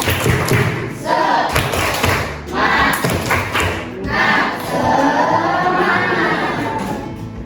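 A classroom of young children claps out a rhythmic chant with their teacher, with quick bursts of claps and thumps at a steady beat, mixed with children's voices calling along.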